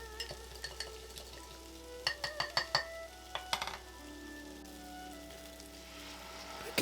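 Sauce is poured over chicken and onions frying in a pan, then stirred with quick, close, rhythmic scraping clinks of a utensil against the pan over a soft sizzle, and no talking.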